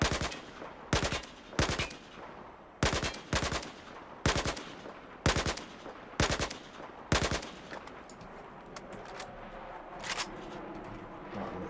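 Burst-fire gunshots from a weapon on the Battlefield 4 test range ring out in eight evenly spaced, loud, sharp bursts of two or three rounds each, then give way to quieter ambient game noise.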